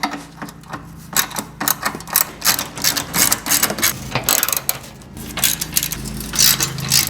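Ratcheting and metallic clicking from bolts being removed on a Honda Civic (EK) headlight assembly, a busy run of irregular close ticks and clanks with no talk.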